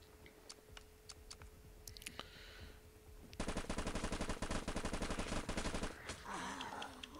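Uzi gunfire in the zombie survival game Life After: a few scattered clicks and single shots, then a dense, loud burst of rapid automatic fire lasting several seconds before it tails off.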